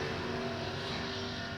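A loud car passes close by, a steady broadband engine and road roar filling the whole moment, alone with no talk over it.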